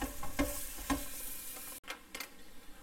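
Garlic parmesan zucchini rounds cook in a pan, sizzling steadily with a few soft stirring taps, quiet and close.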